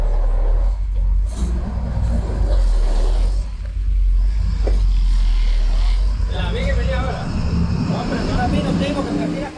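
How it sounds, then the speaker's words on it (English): A municipal local bus rumbles along a road in Costa Rica, a steady low engine and road drone filling the interior, with people talking over it throughout. "So this bus is a municipal bus, normal, what you'd expect anywhere, not a coach bus."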